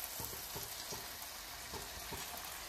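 Masala for crab curry fries in a pan with a continuous soft, close sizzle, broken by a few quiet stirring taps at a regular pace.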